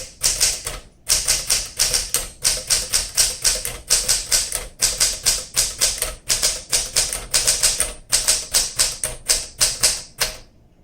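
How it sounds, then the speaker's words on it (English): Typing on a 1961 Smith Corona Sterling manual typewriter: fast, crisp, close-up keystrokes strike in quick bursts, broken by brief pauses and the carriage moving along, with no speech. "So let's go ahead and keep typing."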